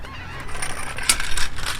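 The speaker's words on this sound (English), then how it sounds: "All those freaking seagulls" Seagulls call repeatedly nearby with several overlapping honking cries, fairly loud over a steady outdoor background, with no talking.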